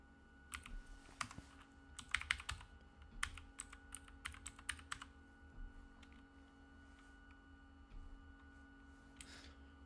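Computer keyboard typing a command in Rhino 6 on a Mac, heard as quiet irregular key clicks in short bursts over a steady low electrical hum, with no speech.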